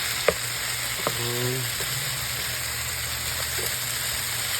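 Sliced potatoes and egg fry in a pan with a steady close sizzle, punctuated by a few sharp scraping clinks of a utensil stirring.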